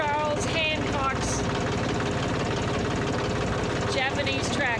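A small Japanese tractor engine chugs steadily nearby with a rapid, rhythmic knock, while people talk over it.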